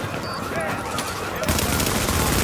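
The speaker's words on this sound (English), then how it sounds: "you guys are shooting me in the back" Rapid gunfire in the shooter game The Division, a continuous dense rattle of automatic shots that grows heavier and louder in the second half of the short stretch.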